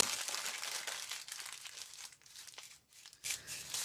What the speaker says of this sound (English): I'm going to take a fairly long piece of paper and I'm going to crumple it up